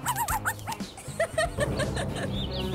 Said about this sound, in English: What a curious dog.